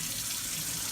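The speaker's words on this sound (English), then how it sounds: "warmer water running through here at some speed" Warm water running at speed through a sink drain under a household sink, a loud, steady rushing wash with no pauses and no voices.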